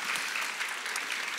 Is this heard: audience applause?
yes